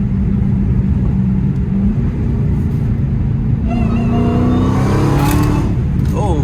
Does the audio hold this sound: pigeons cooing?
no